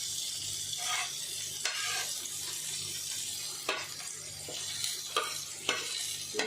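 Fish stir-fry (poriyal) sizzling gently in a pan over a low flame, with a steady soft fry broken by several sharp spatula stirs and scrapes near the end.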